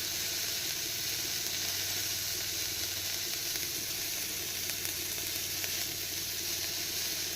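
A small dried red chili tempering in hot oil for khichdi, sizzling in a dense, steady hiss that stays loud and close throughout.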